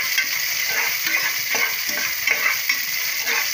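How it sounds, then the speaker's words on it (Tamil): Onions with salt fry in a pan for a mutton bone and butter bean tamarind salna, making a constant close sizzle with faint stirring scrapes and small crackles, with no voices. "அப்பதான் அந்த வெங்காயம் நல்லா உங்களுக்கு வந்து ஃப்ரை ஆகும்."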